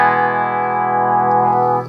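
An electric guitar played through a Jamtastik modulation pedal rings out as one sustained, effect-laden chord, close and loud, fading at the very end.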